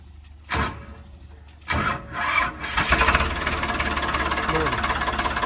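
A used tractor with about 2600 hours on it is cranked and fires up, the engine catching after a few loud bursts and settling into a steady running rumble close by.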